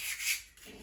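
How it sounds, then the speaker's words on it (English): Soft, steady scratchy rubbing of 220-grit sandpaper against a ceramic bird, close up, with slight variation in pressure and no voices. "So I do my overall sanding with the 220."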